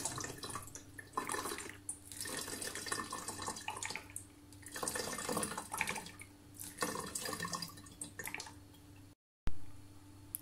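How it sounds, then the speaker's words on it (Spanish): Rubbing alcohol being poured into a container for homemade glass cleaner, a trickling, splashing liquid stream in uneven bursts, fairly quiet and close, with a brief gap near the end. "Vamos echando ahí el alcohol."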